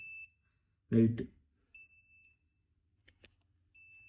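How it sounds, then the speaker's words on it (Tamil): A Luminous Eco Volt 1050 inverter with a 250Ah tall tubular battery beeps after the mains power cuts out, giving steady, thin, high electronic tones that stop and restart, with a brief spoken word in between. "இல்லை பீப் சவுண்ட் அடிக்கும் கரண்ட்டு போயிட்டுனா"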